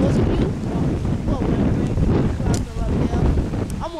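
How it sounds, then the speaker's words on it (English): Wind blasts across the microphone outdoors under open sky with a fire nearby, a continuous loud rushing roar with gusty buffeting throughout. "The wind is catching."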